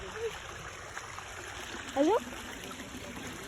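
Water trickles and flows along a trail in a stream, a faint, steady babble in the background, briefly overlapped by a short spoken word.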